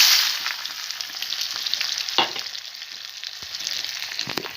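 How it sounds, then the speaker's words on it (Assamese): Steady oily sizzling of chopped onions frying over low heat in a pan, with occasional sharper crackles and a brief stirring scrape, close and continuous without any talk. "কুটি থোৱা পিঁয়াজখিনি প্ৰথমতে ভাজি লওঁ"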